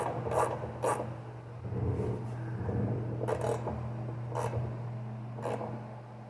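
Ratchet turning to tighten a lawn mower spark plug, a few quick close clicking rasps in short bursts over a steady low hum.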